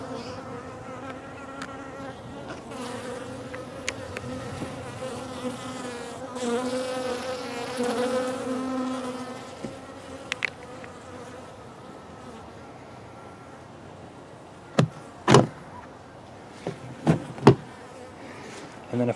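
Honey bees buzz around cross-combed honey frames stored in a lidded Rubbermaid tote; a steady, droning hum rises and falls, with sharp knocks and clunks of handling late on.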